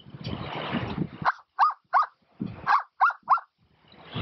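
A wacky whistle blown to imitate a dog produces a run of short, bark-like huffs in a quick rhythm, heard clearly after a longer breathy opening.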